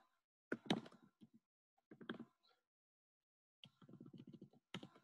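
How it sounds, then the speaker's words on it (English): Fingers tap on a computer keyboard in quiet, close bursts of quick clicks separated by short pauses, with no one talking. "I'm typing, by the way."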